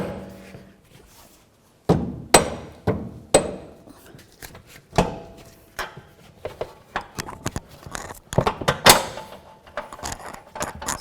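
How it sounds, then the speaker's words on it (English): A rubber mallet taps a control arm bushing into place under a 2008-12 Chevy Malibu: after a quiet start, a long run of sharp, irregular knocks and thunks follows, some with a metallic ring, close by. "we're going to carefully bonk under here with a rubber mallet and try to line up the forward hole"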